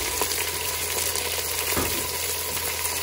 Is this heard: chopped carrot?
yes